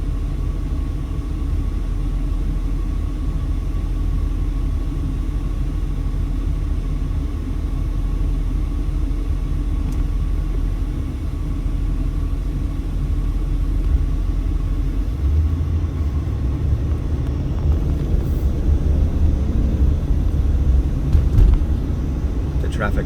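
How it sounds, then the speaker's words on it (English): Westbound traffic backed up on Sahara Avenue in Las Vegas, a steady low rumble of idling and slow-moving cars and engines that builds slightly toward the end, with a voice talking over it. "traffic backed up going westbound on Sahara there"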